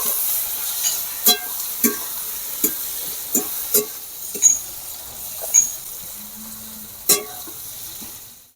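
Masala paste of onion, garlic, ginger, tomato, melon seeds and cashew frying in hot oil, with a soft steady sizzle under a regular series of sharp scraping clinks as a spoon stirs the pan.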